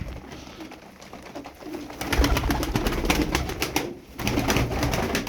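Pigeons in a coop coo over and over, close and fairly loud, with steady bird calls and fluttering noise layered throughout.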